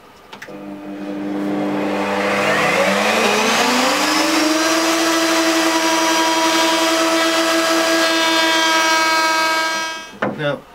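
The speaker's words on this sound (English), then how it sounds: "I'm going to trim off freehand the outer, or the overhang of the lower part, or the lower piece of plywood" A handheld router fitted with a bearing-guided bit spins up to a loud, steady high whine as it trims the plywood overhang on a frame, holding its pitch for several seconds before winding down and stopping.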